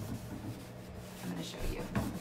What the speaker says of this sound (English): When I'm putting this wax over, it's making all of that paint really textured.